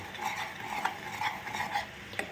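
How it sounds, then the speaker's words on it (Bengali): Milk for payesh being stirred in a pot, a soft, continuous swishing with light scrapes and faint clinks of the spoon against the pot, close and quiet, with no talking. "একটু অনবরত নাড়বে, না নাড়লে কিন্তু তলায় পোড়া লেগে যেতে পারে"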